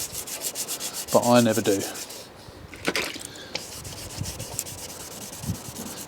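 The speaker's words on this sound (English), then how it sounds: "the first thing we've got to do is wet sand it with number 1" Wet sanding the paint of a 2010 Fiat 500 Lounge by hand, a steady soft rubbing scrape that repeats side to side, broken by a brief spoken phrase and a short louder stretch of talk.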